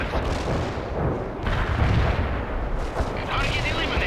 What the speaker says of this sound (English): Hold up firing mortars.